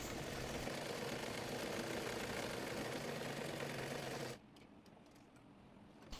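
A sewing machine stitching a round-cut dress runs with a steady, dense mechanical whir for about four seconds, then stops abruptly, leaving a quiet room with a few faint clicks.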